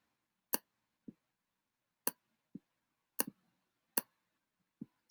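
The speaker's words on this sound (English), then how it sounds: "we have to click on the keyboard" Clicks of a Desmos calculator's on-screen keyboard being tapped for a square-root calculation, about eight sharp, dry taps spaced irregularly across five seconds, alternating louder and softer, close and alone with no talk.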